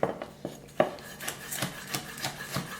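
A knife slices the white pith from red bell peppers on a cutting board in a home kitchen, making about eight crisp, evenly spaced cuts that land close and clear with no voices.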